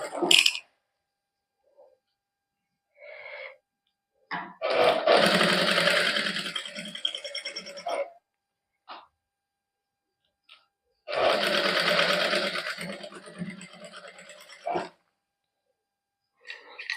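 A domestic sewing machine stitches gota patti lace onto a sleeve in two sustained, loud whirring runs of several seconds each. Brief clicks and short starts fall between them, with quiet pauses in between.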